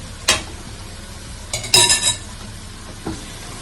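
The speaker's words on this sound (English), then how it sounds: "Give it a stir" Curry lentils being stirred in a pot with a spoon, a few sharp scrapes and clinks of utensil against metal over a soft background sizzle, no talk.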